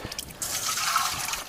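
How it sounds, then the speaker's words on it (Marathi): Plain water pours into a clay water pot, a brief spill of trickling then a fuller, steady gushing fill heard up close, with no voices. "ह्याच्यात ओतूया आपण साधं पाणी"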